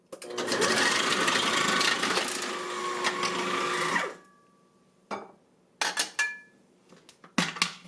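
A KitchenAid 7-cup food processor running on high while slicing cucumber, a loud steady motor whir for about four seconds, then stopping, followed by a few short clattering knocks of the bowl and pushers.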